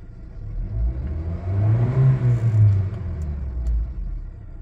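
A Honda City 1.5 with an engine warning light on, throttle-body fault codes showing, rumbles and revs up close, its low engine drone swelling and easing steadily throughout, with no voices.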